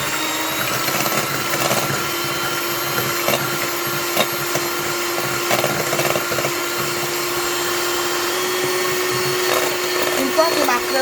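Cream with a few drops of vanilla being whipped with an electric whisk, a steady continuous motor whir with faint rattling against the bowl, close and fairly loud throughout.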